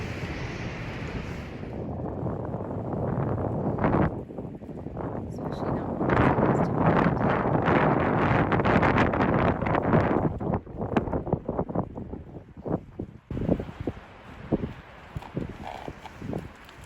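Strong wind blows outdoors around a herd of mustangs: a continuous, loud, rushing roar that buffets the microphone, with occasional thuds and hoof-like knocks and a voice heard at times.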